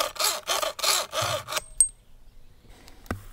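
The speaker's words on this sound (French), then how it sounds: "le mec il a une scie à métal" Five quick rhythmic rasping strokes of a hacksaw biting into a metal rod, close by, followed by a brief clink and quiet.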